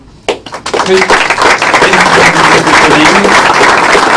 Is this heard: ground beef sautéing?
no